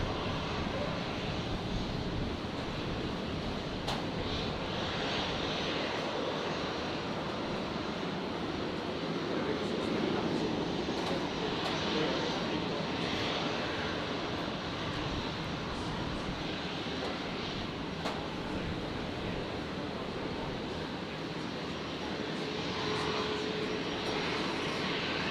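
An aircraft approaching Brisbane International Airport to land gives a faint, steady engine roar that swells slightly midway, heard from a distance over breezy outdoor ambience.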